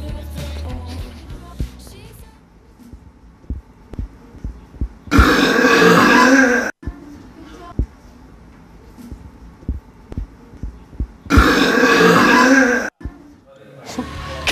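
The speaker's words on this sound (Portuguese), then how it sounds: "Arroto mais alto do mundo." Two very loud, long burps boom out a few seconds apart, each rough and sustained, with talking and clicking noises in the quieter stretches between them.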